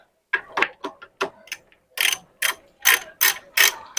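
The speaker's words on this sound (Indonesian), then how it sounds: "ini saya pakai ratchet ya. Ini ratchet Tekiro nih teman-teman." Tekiro ratchet wrench loosening a motorcycle shock absorber bolt, giving a series of sharp, close clicking bursts in irregular rhythm with short pauses between them.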